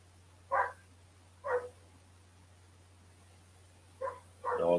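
A dog outside gives a few distant barks in two pairs separated by a pause, each bark short and clear over a constant low electrical hum.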